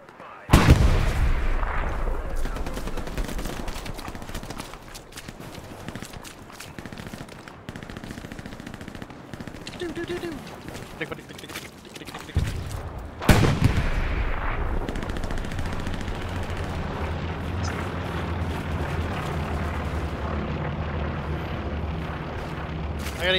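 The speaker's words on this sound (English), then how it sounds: "I'm hearing shots. Like cannon shots." Intense combat in the World War II shooter Hell Let Loose: bursts of rifle and machine-gun fire crackle close by, with heavy cannon and artillery booms, including a loud blast midway, followed by a rumbling sustained barrage.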